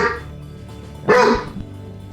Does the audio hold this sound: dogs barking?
yes